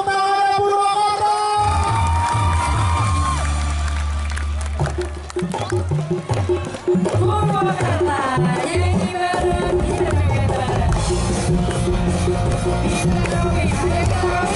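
A crowd at an outdoor stage show in a field in Purwakarta cheers and whoops loudly, with yells rising over music and an announcer's voice, sustained for the whole stretch.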